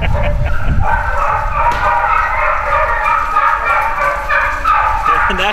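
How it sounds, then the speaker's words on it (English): A tape recording of hunting dogs baying as they run plays loudly at a field trial, a busy chorus of overlapping barks and yelps throughout. "that's just audio tape playing to imitate, audio tape playing to imitate dogs running"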